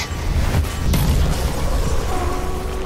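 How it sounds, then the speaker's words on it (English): Low rumbling booms roll through the clip, with a sharper burst near one second, like distant explosions layered over a dense noisy backdrop. "All the explosions killed it."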